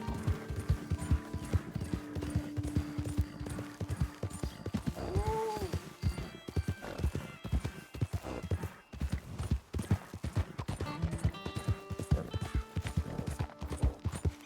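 Horse hooves clip-clop steadily in Red Dead Redemption 2, a near, continuous rhythmic gait lasting throughout, with a brief whinny midway and faint game ambience beneath.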